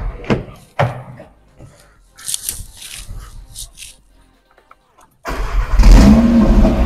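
A tuned Cupra Formentor VZ5 at Stage 1 cranks and fires near the end after some handling noises and a few clicks, settling into a loud, deep idle with a brief rise in revs.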